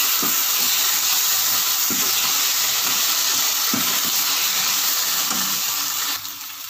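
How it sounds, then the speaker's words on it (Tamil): Green chillies and curry leaves sauté in hot oil with ginger garlic paste for an egg gravy, giving a steady close sizzle and hiss with a few soft stirring knocks throughout. "3 பச்சை மிளகாய் கருவேப்பிலை போட்டு இதையும் வதக்கிடலாம்."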